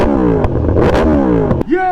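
A Yamaha R1M sport motorcycle revs hard at a street gathering of riders. The engine note rises loud and close with other engines and crowd noise mixed in, and a brief whine is heard at the end.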